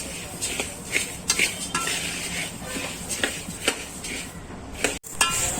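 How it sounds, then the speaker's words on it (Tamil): Coriander seeds dry-roast in a pan over low heat, with a spoon repeatedly scraping and clinking against the metal in an uneven rhythm over a soft rustle of seeds, close and without talk. "அடுத்து மல்லியை போட்டு நம்ம வறுத்துக்கலாம். சிம்மிலே வச்சு வறுத்துறதுக்கு பாருங்க."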